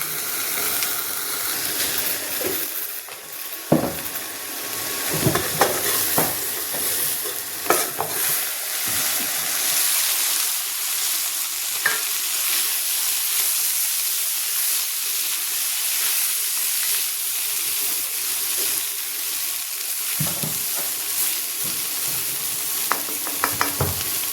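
Bitter gourd and onion frying in an iron kadai, with a steady sizzle and hiss throughout, punctuated by occasional scraping stirs and clinks of a spatula.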